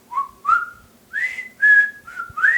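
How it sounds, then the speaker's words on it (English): A person whistles a light, folksy melody in the style of the Andy Griffith theme, several sustained notes rising and sliding in short phrases, close and clear with no talking. "you kind of want to whistle like the theme from Andy Griffith"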